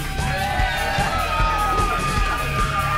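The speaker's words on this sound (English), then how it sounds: "Don't you cheer him!" Crowd noise at a Big Time Pro Wrestling show in Texas after a pinfall win, a steady roar of cheering and shouting from the audience with scattered yells throughout.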